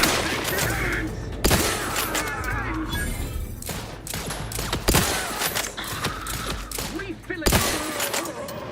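Gunfire in The Outer Worlds 2 on PC: sharp, loud shots burst out at intervals over a busy game soundscape with mechanical clanks, and a player talks during the action.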